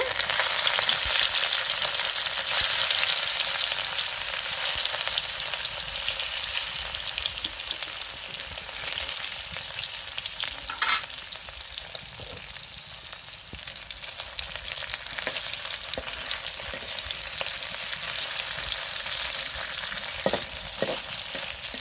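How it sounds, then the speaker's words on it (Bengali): Eggs frying in hot oil for a potato and drumstick dish, a steady dense sizzle holding evenly for the whole stretch, close and fairly loud, with a couple of brief clicks and no voices. "আমি এখন ডিমগুলো ভেজে নেব ডিমগুলো ভাজে নিতে হবে"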